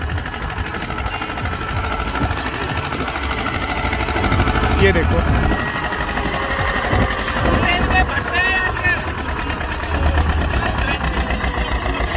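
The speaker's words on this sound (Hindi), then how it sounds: "लो के तीसरे में चल रहा है भाइयों ट्रैक्टर।" Tractor engine chugging steadily in third low gear while working a field, a continuous low mechanical drone under a voice speaking over it.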